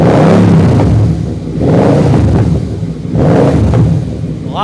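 A Yamaha RoyalStar 1300 V4 motorcycle, recently running rich and still popping slightly, revs up loudly three times in succession, each deep throttle blip rising and falling close by with low rumbling between.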